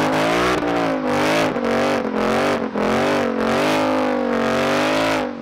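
A 2024 Ford Mustang Dark Horse V8 engine roars loud and close, revving in steady surging waves with brief dips between pulls, deep harmonics throughout and no talking.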